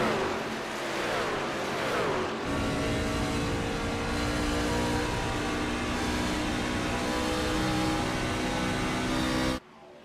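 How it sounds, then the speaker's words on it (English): Race truck engine in a racing video game pulling out of pit road, a sustained mid-pitched roar that climbs through a gear change and holds loud and steady before cutting off abruptly near the end. "I actually hear a truck exiting pit road right now."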